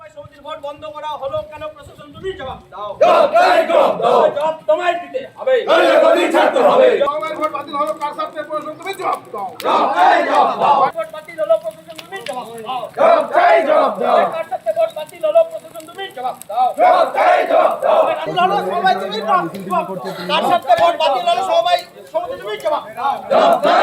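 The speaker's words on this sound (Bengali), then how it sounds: "মিছিল শেষে সমবায় সমিতির ব্যাংক অফিস ঘরের সামনে টায়ার জ্বালিয়ে তুমুল বিক্ষোভ দেখান" BJP workers rally and shout slogans in a loud, sustained protest outside a cooperative society bank office where tyres are burned, with voices rising and falling in repeated bursts across the scene.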